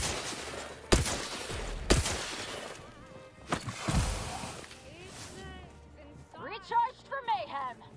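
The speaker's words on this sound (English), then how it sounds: "Is that the cannonade?" Cannonade fire in The Outer Worlds 2, a couple of sharp heavy blasts followed by further booms and crashing debris, with voices and chirpy effects trailing afterward.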